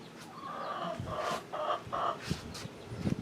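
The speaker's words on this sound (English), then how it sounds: "You can already hear the chickens over here." Hens cluck softly and repeatedly nearby, a series of short, throaty clucks with a few louder squawks mixed in.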